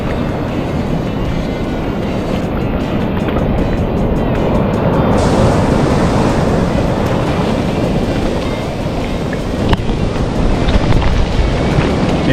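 Waves breaking over the tops of rocks at high tide on K'gari (Fraser Island), a loud, continuous roaring wash of surf with wind buffeting the microphone throughout, no voices.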